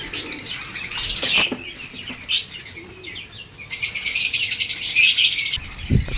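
Pigeons coo and chirp nearby with bursts of wing flapping, a busy, rustling mix of calls and fluttering.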